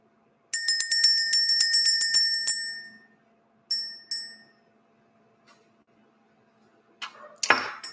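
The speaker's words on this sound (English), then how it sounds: "Let's ring the bell." A small hand bell rung for an energy-clearing ritual: a quick series of bright metallic rings fading out, two more separate strikes a moment later, then a few faint handling clatters.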